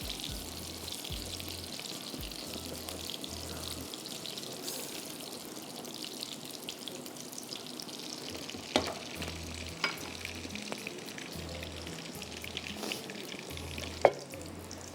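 Crushed garlic sizzles softly in a pot for a mutton kofta hotpot, with steady low frying hiss, light stirring scrapes and a few clinks as boiled mutton and stock go in.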